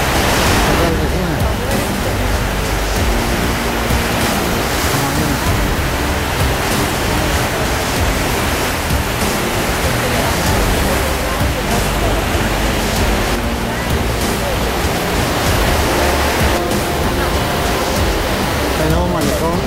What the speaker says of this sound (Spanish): El nuevo malecón, el nuevo muelle de Puerto Vallarta